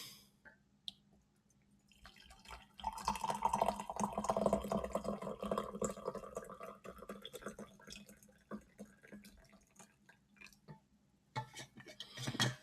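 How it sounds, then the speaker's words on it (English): Tea pours into an empty cup, a close, gurgling liquid stream that starts after a quiet stretch, swells and then trails off, followed by a few light clinks and drips. "Today is the time to pour more tea into this sad, empty cup"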